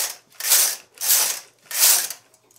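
A knitting machine carriage swishes across the needle bed three times in a steady back-and-forth rhythm, knitting rows for bunny slippers; each pass is a bright, ratcheting mechanical rush with brief pauses between, close and fairly loud, with no talking.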